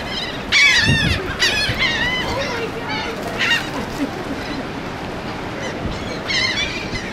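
Seagulls call repeatedly beside a cruise ship in the Bahamas, a series of short, fairly loud squawking cries in bursts over steady wind and sea noise.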